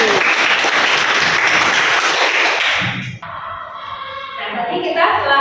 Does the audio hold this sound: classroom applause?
yes